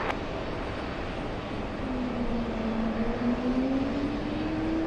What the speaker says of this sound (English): let's go over to the American Airlines 737 takeoff